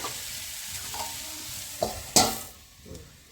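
Beans palya stirred and frying on a flat tawa, a soft continuous sizzle broken by a few sharp scraping stirs of the spatula, close and fairly quiet.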